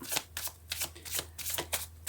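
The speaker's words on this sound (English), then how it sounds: "I'm feeling like it's really important today for me to just shuffle the cards" Tarot cards are shuffled by hand in quick bursts, about seven crisp riffling swishes in two seconds, close and clear with no speech.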